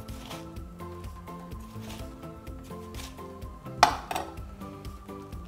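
A knife slices down through watermelon flesh in soft, close strokes, with one sharp clink of the blade against a hard surface partway through, over faint background music.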